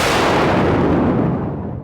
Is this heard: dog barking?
no